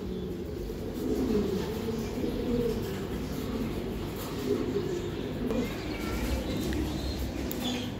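A pair of high-flying Giribaz racing pigeons coo in low, rolling murmurs that repeat steadily and fairly close throughout, with a few faint chirps above them.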